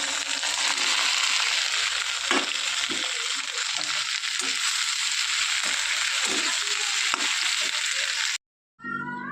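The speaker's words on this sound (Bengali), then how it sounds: "কাঁঠালের আটি যেগুলো বের করে রেখেছিলাম সেগুলো কিন্তু ধুয়ে রোদ্দুরে দিয়েছিলাম, আর এখন ভাজা করছি" Sun-dried jackfruit seeds frying in a pan, a continuous loud sizzle with scattered clicks and rattles as the seeds are stirred, ending with a brief gap and a few quieter crackles.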